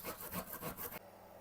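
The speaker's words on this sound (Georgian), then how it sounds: "ჯანჯაფილი გავხეხოთ წვრილ სახეხზე." Fresh ginger scraped over a fine grater in a kitchen gives about four quick, rhythmic rasping strokes, close and quiet, ending in a brief hush.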